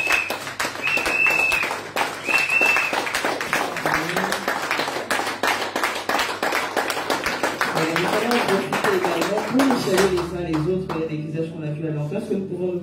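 A church congregation claps and cheers together in a lively, sustained burst that continues for most of the stretch. Voices ring out over the clapping, and a speaker talks near the end as the noise thins.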